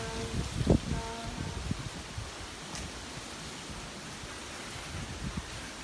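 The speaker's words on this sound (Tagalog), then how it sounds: "So windy." Strong wind rushes across an outdoor lanai as a continuous, broad roar with microphone buffeting, and a brief rustle or bump near the start.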